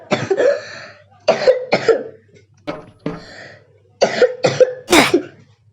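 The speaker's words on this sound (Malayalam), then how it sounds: "ജസ്റ്റ് ഒന്ന് ചുമ വന്നതാണ്." A bout of harsh, repeated coughing close by, several hacking coughs in uneven groups with short pauses between.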